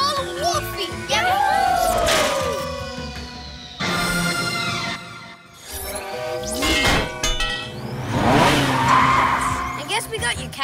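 The PJ Masks cartoon cat car speeds along and skids with long, loud tire squeals, broken by a short pause, while a voice chatters in between.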